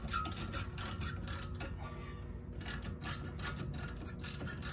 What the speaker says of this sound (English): unscrew these bolts